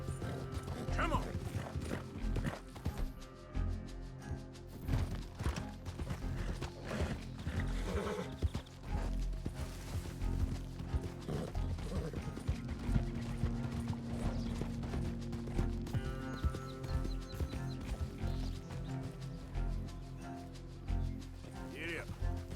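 Horses in Red Dead Redemption 2 neigh and their hooves clop over a steady bed of game sound and creaking tack, with someone talking over parts of it.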